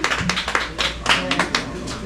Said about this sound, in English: Let's give her one more big round of applause, folks